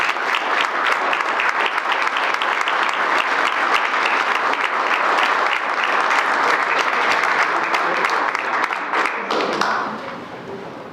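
An audience gives sustained, steady applause welcoming Wilmer and Lorena Kellogg at a Fort Hays State University press conference, the clapping dense and even throughout before tapering slightly at the end.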